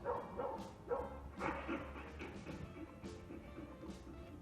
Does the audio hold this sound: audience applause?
no